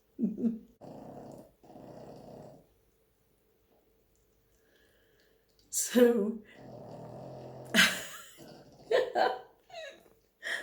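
A dog snores in rough, low rumbling breaths, with a short burst of speech at the start and a voice speaking near the end.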